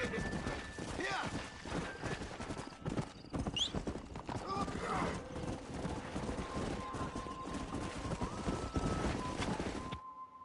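Horse hooves clip-clop steadily and close in the video game Red Dead Redemption, with a brief whinny partway through and voices talking over the trotting.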